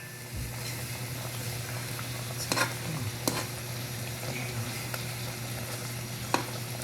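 Chicken curry sizzles steadily in a pan, a continuous close frying hiss with a low hum beneath, broken by a few sharp scrapes and clacks of a utensil stirring the pot.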